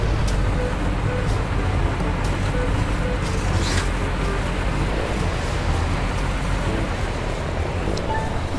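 Jammed road traffic on the Sitinjau Lauik mountain road in Sumatra, with a Fuso trailer truck hauling logs: a steady low rumble of idling and crawling heavy vehicles, with faint distant clatter throughout.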